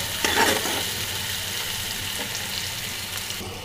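Mashed potato being stirred together with salt and turmeric powder in a pan, a soft scraping and mixing texture over a low background sizzle, steady and close with no talking.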